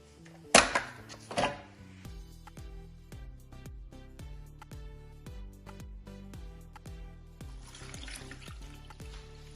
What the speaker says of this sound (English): pour water in it and boil